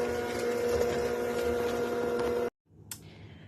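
An electric mixer combines cake batter for a cinnamon apple crumb cake at low speed, a steady close motor hum that cuts off abruptly, followed by a small click and quiet room sound.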